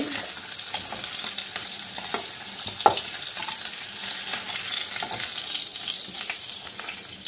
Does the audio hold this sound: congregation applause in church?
no